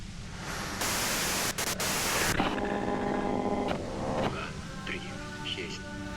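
A burst of loud, steady white-noise static that cuts in abruptly and runs for about two seconds before giving way to tonal sounds, with a voice around it.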